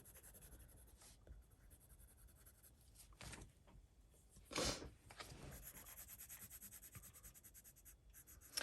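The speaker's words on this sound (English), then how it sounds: "We'll try blending this out because I think that the white pencil is going to give it more of a silvery effect." Soft, close scratching and rubbing of a white colored pencil blending on paper, in short repeated strokes with one louder scrape partway through.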